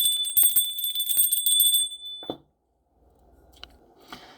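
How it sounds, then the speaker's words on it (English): A metal bell is rung in a spiritual channeling session, giving a bright sustained ring with tonal overtones that repeats a few times, then decays and stops, followed by quieter faint clinks. "Let's ring the bell just to raise the vibes."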